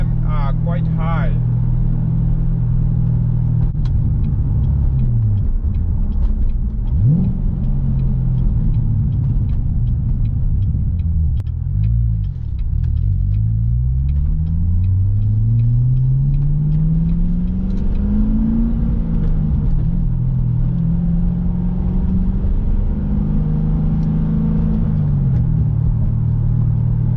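Chevrolet C7 Corvette engine revving to high RPM while driving, a loud continuous rumble whose pitch climbs and falls through repeated gear changes, with a voice talking over it at times.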